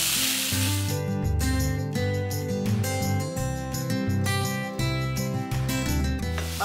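Chipotle pork loin sizzles and fries steadily in a hot pan while being stirred, a continuous close hiss with faint scraping throughout.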